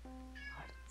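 A person gives a single short meow imitating a cat, faint and brief, during a Minecraft party minigame session.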